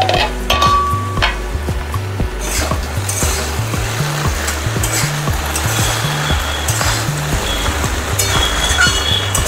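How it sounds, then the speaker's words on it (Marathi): Okra being stirred in a pan after the lid comes off, with a steady rhythmic scrape of spoon on metal over a continuous soft sizzle, close and alone with no talking. "छान मिक्स करायचे आहे।"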